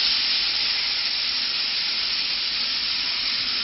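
Onions and celery sizzling in warm olive oil in a pan, a steady close hiss that holds even and unbroken from start to end, with no talking.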